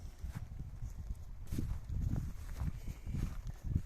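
Percheron horse hooves clip-clopping at a steady walking pace on hard ground, a regular rhythm of thuds nearby with faint background noise.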